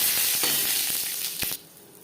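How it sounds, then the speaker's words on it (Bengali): Cumin seeds, a bay leaf and dried red chili frying in hot mustard oil: a loud, steady sizzling hiss with scattered crackles and pops that drops away abruptly near the end. "জিরে, তেজপাতা, শুকনো লঙ্কা ভেজে নেওয়ার পর"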